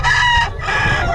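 A fighting rooster, a gamecock, crows loudly and close by in one strained call lasting just over a second, with the call breaking briefly midway.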